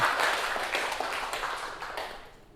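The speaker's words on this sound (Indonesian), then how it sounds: "Oke, beri tepuk tangan dong" A classroom of students clapping during a microteaching session, a brief burst of many hands that fades out toward the end.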